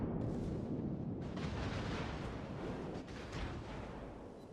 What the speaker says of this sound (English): He's shooting high explosive at me.